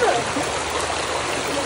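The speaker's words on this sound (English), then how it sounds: "Today, we're in the river." A rocky river flowing over stones, with broadband rushing water noise steady and close throughout, and a faint voice briefly audible beneath it.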